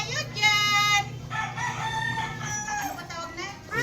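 A rooster crows loudly and close by in a long drawn-out call, followed by further crowing and clucking from nearby fowl against a steady rural background.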